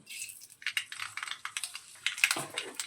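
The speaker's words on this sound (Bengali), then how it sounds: "এবারে আমরা তেলের মধ্যে ফোড়ন হিসাবে গোটা সর্ষে দিয়ে দিচ্ছি" Whole mustard seeds crackle and pop in hot oil, a dense run of sharp, close little snaps and spits for a few seconds with no talking.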